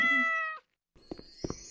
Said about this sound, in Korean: 고양이가 좀 시무룩해진 것 같지 않아?